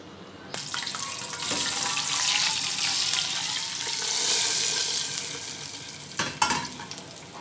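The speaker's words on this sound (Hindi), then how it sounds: "मैं इसका भगाड़ लगा दूँगी इसके ऊपर।" Hot tempering with curry leaves is poured over cooked black chana, giving a loud, steady sizzle that swells and fades over several seconds and ends with a few clatters of the pan.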